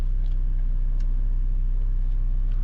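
A 2024 Mercedes-AMG GLC 63 S shifts from second down to first gear during a night drive, heard from inside the double-glazed cabin as a steady low engine drone and road rumble with faint clicks.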